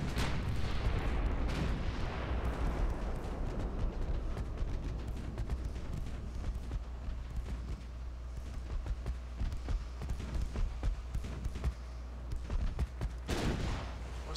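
Small warship guns firing high-explosive shells in a dreadnought-era naval battle, repeated booming shots and thuds spread across the stretch, some close and sharp, others duller, with a steady low rumble beneath.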